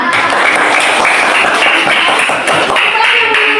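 A classroom of students claps for a classmate during a micro-teaching lesson, producing a loud, close, continuous patter of many hands that stays steady from start to finish.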